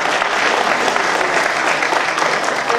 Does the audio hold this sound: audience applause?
yes